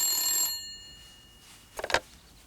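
A cartoon telephone rings in a short, bright electronic double trill near the end, heard faintly after a fading tone and a quiet gap, with no talk over it.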